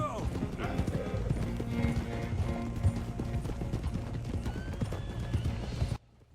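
Hooves of several horses clip-clop steadily as three riders travel toward a manor in a video game, a close, continuous trotting rhythm layered over other game sounds that cuts off abruptly at the end.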